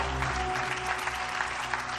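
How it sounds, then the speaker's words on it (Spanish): A church congregation applauding for God during a sermon, continuous clapping at moderate distance, fairly faint with a steady hum beneath it. "Si le van el aplauso a Dios, déselo con todas sus ganas, mi amado hermano."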